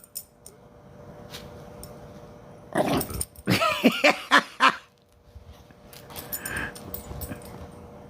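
A small dog growls in short, throaty bursts in the middle of the stretch, near and fairly loud, with quiet room noise around it and no talk.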